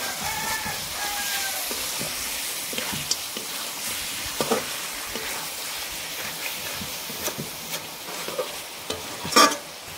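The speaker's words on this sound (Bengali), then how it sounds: "নেড়ে চেড়ে এবার নামিয়ে নেবো" Kosha mangsho, a dark spiced meat dish finished with garam masala, being stirred in a hot pan: a steady sizzle with scraping strokes of the spoon, a few sharper clacks, and one louder knock near the end, with no voices.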